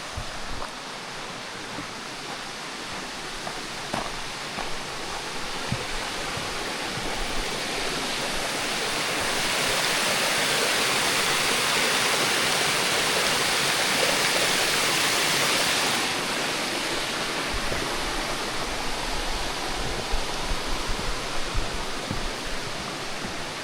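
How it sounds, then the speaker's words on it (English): A waterfall cascade on a Mont-Mégantic hiking trail makes a steady, full rushing roar of falling water. It grows a little louder midway, with no voices. "Heading for the cascade."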